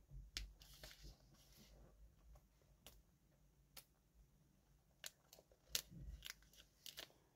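Scissors cut through the top layer of paper while someone works on a journal, with sparse, quiet snipping clicks spaced irregularly across a hushed room.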